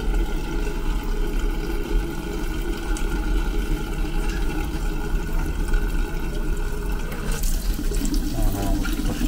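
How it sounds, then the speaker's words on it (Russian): Tap water runs continuously from a faucet after a valve repair, a steady rushing flow at close range with a brief change in texture near the end. "А что-то все равно не очень вода идет."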